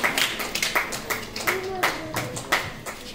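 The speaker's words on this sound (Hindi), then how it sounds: "जोरदार तालियां इनके लिए इस मानव सेवा के प्रति" An audience at an ashram event claps in a loose burst of sharp hand claps, several distinct strikes over a few seconds, close and fairly loud, with a voice talking underneath.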